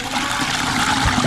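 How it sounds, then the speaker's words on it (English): Water rushing out of a multipurpose sink through its outlet, a steady close gurgling drain flow with a rough, splashy texture. "we're going to release the water and we're going to see what happens"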